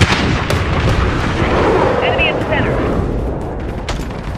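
A called-in artillery strike in Call of Duty: Modern Warfare, dense rumbling impacts and crackling blasts rolling continuously, loud and close, with faint game voice chatter in the background.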